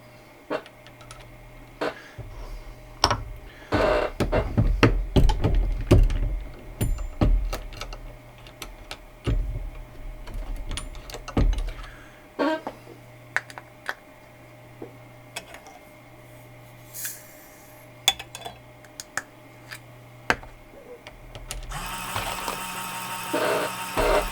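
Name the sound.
Redding T7 turret press reloading 300 Win Mag ammo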